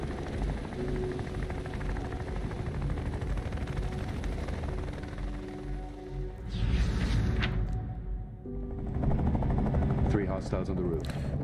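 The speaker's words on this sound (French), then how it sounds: "Merde, les hélicos de l'armée." Army helicopters in the video game Liberated, a steady rotor drone with gunfire-like bursts that swell louder toward the end, mixed under game speech.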